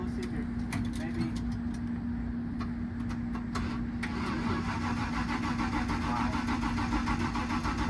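A Mercury Comet with a mechanical fuel pump and a weak battery cranks steadily without catching, its engine turning over in a continuous churning drone with a steady whine. Brief clicks sit on top of the cranking.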